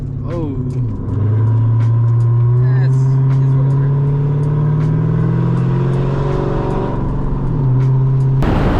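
A Lexus SC400 with a loud aftermarket exhaust driving through the desert, a steady droning engine note with rising and falling revs heard from inside the car, with a voice talking briefly over it.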